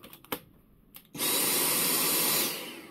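A few faint clicks and taps, then a sudden loud, steady rush of air blown into the vents of a Dyson vacuum, holding for over a second before easing off.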